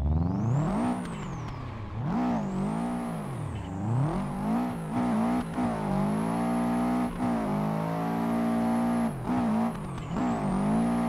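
A drift car in Assetto Corsa, from a Subaru drift pack, revs hard and continuously, its engine pitch swinging up and down through repeated throttle blips, loud and close with a faint tire hiss.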